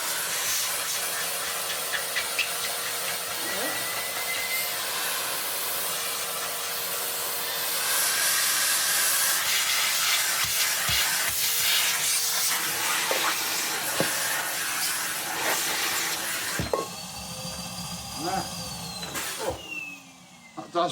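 A Numatic Henry XL NRV370 vacuum cleaner runs with a steady loud airy roar and hiss, its tone shifting partway through before a few clicks and a drop near the end.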